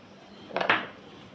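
Knife cutting through the middle of rolled singara dough on a board, two quick soft scraping taps close by in a quiet room.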